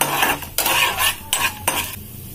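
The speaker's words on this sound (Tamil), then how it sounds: "கடலைப்பருப்பு வந்து நம்ம நல்லா வறுத்து எடுத்துக்கலாம்." Chana dal is dry-roasted in a pan for coconut rice. A spoon scrapes and stirs in several sharp, close strokes, with the lentils rattling and a light sizzle underneath.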